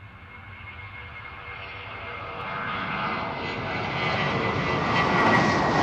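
British Airways jet engines swell steadily at Amsterdam Schiphol Airport, a rising broadband roar with a thin whine climbing in pitch as the aircraft draws nearer, heard alone without speech.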